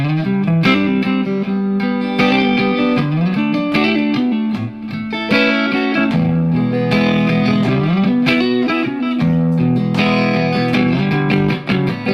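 Electric guitar played through an amplifier on a clean channel, strummed chords ringing out loudly and continuously with a bright, slightly effected tone.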